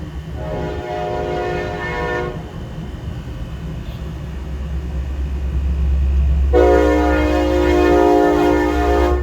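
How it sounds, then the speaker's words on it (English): A train rumbles past close by, its horn sounding in long sustained blasts at the start and again near the end over the steady roar of the wheels. "Guess who? Our friend the train."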